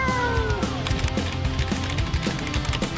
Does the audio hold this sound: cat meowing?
yes